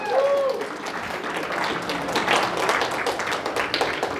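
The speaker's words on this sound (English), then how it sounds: "Let's give them another round of applause." A networking-event audience gives a round of applause, moderately loud and continuous, a dense patter of many hands with a brief voice heard at the start.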